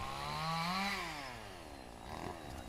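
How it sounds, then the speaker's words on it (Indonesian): A chainsaw runs nearby on its own, its engine whine rising in pitch and then easing off, with a second rise toward the end. "Ini maaf ada suara gergaji mesin juga di sebelah sana tuh."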